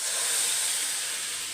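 Hot tempering poured into vatha kuzhambu curry with the stove off, giving a steady, even sizzling hiss that lasts throughout with no talk.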